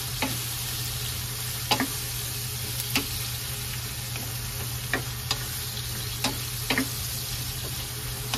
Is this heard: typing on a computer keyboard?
no